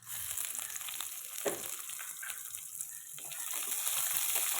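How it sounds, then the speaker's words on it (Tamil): Onion and green chilli sauté in a pan for a Tamil sorakkai kulambu, giving a soft, steady sizzle with an occasional stir. The sizzle grows slightly louder toward the end. "இதை கலந்து விட்டு வெங்காயம் பச்சை மிளகாய் சேர்த்துக்கலாம்"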